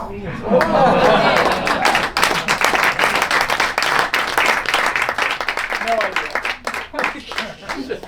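Loud audience applause at a magic show at the Magic Castle, with dense clapping and some cheering, strongest at first and then thinning into scattered claps toward the end.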